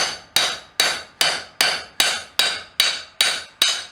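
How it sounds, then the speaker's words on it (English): Hammer blows on high carbon steel being forged into a blacksmith nail header, ringing out in a steady, evenly spaced rhythm of about ten sharp, loud strikes, close by with no talk. "I'll continue my forging."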